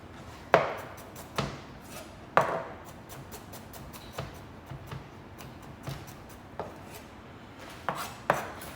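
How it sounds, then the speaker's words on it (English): A knife chops garlic on a cutting board: sharp irregular knocks, a few heavier strikes among lighter taps, close and clear, with no talking. "So let's crush the garlic again."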